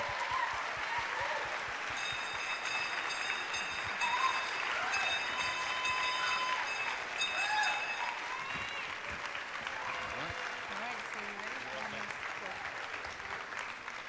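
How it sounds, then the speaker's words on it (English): Audience at a charity dance competition applauding the three judges, sustained broad clapping from a sizable crowd with cheers and whoops, music tones faintly underneath for a while. "let's give a round of applause for all three judges, ladies and gentlemen"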